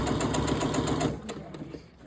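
Sewing machine stitching a bartack on a pocket, fast steady rhythmic needle chatter for about a second, then a few slower separate stitches as the run winds down, close and fairly quiet.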